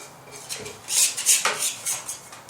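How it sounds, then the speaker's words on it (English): Stirring leftover clay trimmings soaking in a bucket of water: a tool clinks, scrapes and knocks against the container in several uneven strokes, close and moderately loud, with no talking. "And then I stir them so that they get soaked in the water evenly."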